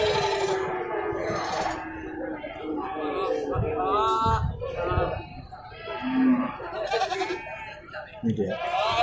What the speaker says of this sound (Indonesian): Ada ratusan ekor kambing diperjualbelikan di pasar Sibreh.